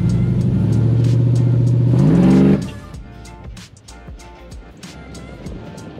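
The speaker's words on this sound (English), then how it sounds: "truck's running awesome. It was making good power." A Chevrolet Silverado truck with a stock LQ4 6.0 V8 accelerates hard, its engine note climbing loudly through the revs before abruptly dropping off to a quieter rumble.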